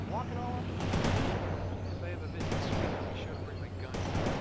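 Rocket launchers firing in the World in Conflict strategy game, a dense barrage of sharp blasts and crackling gunfire over a steady rumbling battlefield drone, with brief radio-style voices in the mix.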